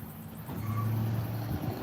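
A car engine runs at a low, steady hum nearby, rising slightly in the middle with faint background noise.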